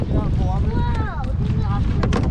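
Wind blows steadily against a canoe out on the water, a loud rumbling gust buffeting the microphone, with voices and faint whistles over it.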